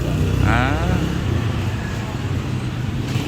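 A Yamaha Aerox V2 scooter engine runs steadily during an injector cleaning with a machine attached, a loud close mid-pitched drone with a brief higher whine early on.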